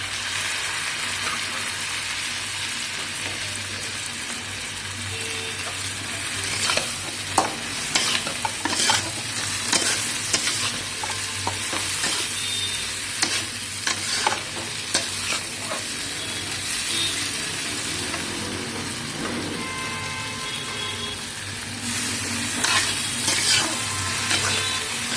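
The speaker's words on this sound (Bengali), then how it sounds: "তো মগজটা ভাজা হয়ে গেছে, তো আমি ধনে পাতাগুলো এখানে দিয়ে দিচ্ছি।" Goat brain sizzles steadily in a hot frying pan while it is stirred together with fresh coriander leaves. Close, continuous frying hiss runs throughout, with irregular scraping and clinking stir strokes that grow busier toward the middle and end.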